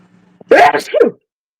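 A single loud, close sneeze with a sharp intake before it, then silence.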